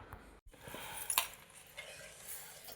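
A steel plate and cutlery clinking in a home kitchen as food is served, with a couple of bright metallic chinks amid soft handling noise, close and otherwise quiet.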